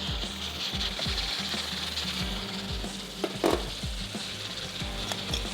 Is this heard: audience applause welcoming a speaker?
no